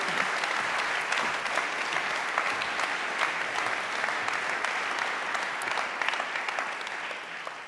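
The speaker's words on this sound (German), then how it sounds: "Applaus für Jean Rubner." A crowd applauds steadily and warmly at the German Non-Fiction Prize 2023 award ceremony, sustained clapping from a large audience that holds for several seconds before easing slightly at the end.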